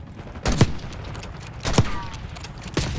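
Weapon fire in a Call of Duty match, three sharp separate gunshots about a second apart, loud and close over a low game ambience.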